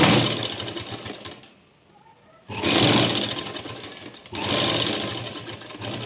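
A sewing machine runs in loud, steady bursts while stitching piping onto a blouse with a quarter-inch seam, stopping twice briefly between runs.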